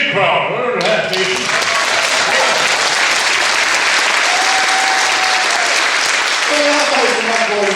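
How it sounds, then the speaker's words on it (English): A crowd at a reunion show breaks into loud, sustained applause and cheering, the clapping dense and continuous after a brief moment of music. "how about a big hand for that big jig crowd?"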